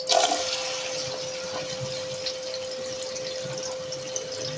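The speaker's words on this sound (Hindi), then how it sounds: "घी में डालेंगे प्याज" Onions drop into about 300 ml of hot ghee for a mixed vegetable biryani and sizzle with a steady, bright frying hiss. A short louder burst at the start settles into continuous crackling, close and fairly quiet, with no talk.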